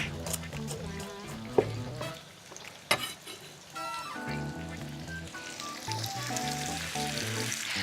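Chopped onions and garlic drop into a hot pan and fry with a steady crackling sizzle, a couple of sharp clinks early on, all under continuous background music.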